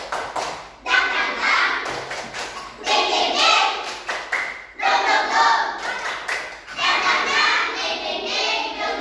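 A classroom of children claps the 'tepuk semangat' routine in three loud rhythmic bursts of patterned clapping, with short pauses between rounds and a teacher's voice in the gaps.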